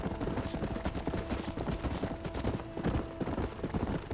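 Horse hooves clip-clop in the video game Red Dead Redemption, a steady, close, rhythmic trotting beat heard on its own without talk.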